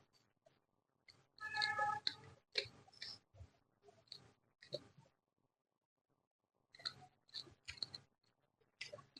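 Someone eats chicken pepper dry, a spicy fried chicken dish, chewing close to the microphone with soft wet smacks and small mouth clicks. The sounds are quiet and come in short bursts, with some speech in between.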